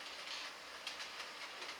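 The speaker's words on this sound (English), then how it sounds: "The commuter train you can hear is going down the helix." A model commuter train runs down the helix of a layout, giving a steady faint rumble and hiss. Soft, regular clicks of the wheels run through it.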